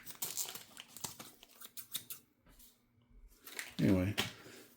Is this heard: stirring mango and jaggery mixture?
no